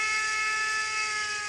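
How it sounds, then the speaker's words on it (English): A steam whistle from an ESU sound decoder in a model locomotive gives one steady, shrill, airy blast that holds for the whole moment at an even level. "So if I press whistle"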